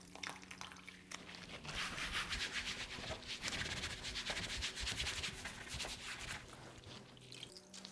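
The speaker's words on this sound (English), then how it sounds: "I'm going to wipe them both down one more time, just using some clean, warm water" Plastic chairs being wiped down with clean warm water give a soft, continuous rubbing and swishing that comes in steady strokes for several seconds, quiet and close.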